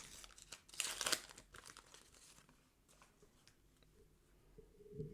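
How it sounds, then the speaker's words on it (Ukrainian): A crinkly foil Panini football sticker packet is crumpled and torn open, with a sharp burst of crackling early on, then softer rustling and handling. "Відкриваємо пакетик номер 3"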